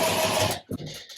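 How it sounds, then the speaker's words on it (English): A drill spins up briefly while driving screws into sticky underlayment, a short whirring burst that stops abruptly, followed by a small knock and faint rattling. "Get a couple screws in this guy"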